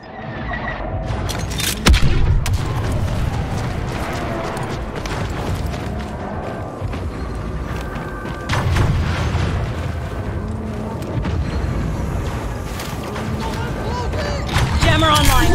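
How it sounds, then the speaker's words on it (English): Heavy booms and explosions from artillery fire during a Galactic Assault battle on Crait in Star Wars Battlefront 2, rumbling over continuous gunfire and battle noise, with in-game voices calling orders. "Artillery, fire."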